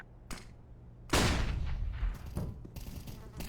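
A flashbang grenade detonates in the game CS:GO, a sudden loud broadband burst about a second in that decays over the following seconds, with smaller crackling bursts and background game noise around it.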